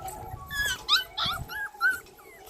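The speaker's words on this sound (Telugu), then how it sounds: "ఇదిగోండి మా క్యూటీ క్యూటీ మా కుక్క పిల్లలు." Puppies whimpering and yipping in a run of short, high-pitched cries and yelps close by, several small voices overlapping in quick bursts with brief pauses between them.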